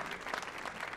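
Audience applause for storytellers at a Peace Corps stories event on the Millennium Stage, a brief, dense burst of many hands clapping steadily with no voices over it.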